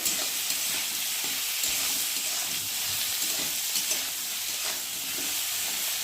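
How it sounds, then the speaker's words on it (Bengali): Vegetables frying in a pan with green chillies and salt for a shrimp and gourd-leaf dish give a steady, close sizzle with stirring scrapes throughout and no talking. "দিয়ে সবজিটাকে একটু ভালো করে ভেজে নেব"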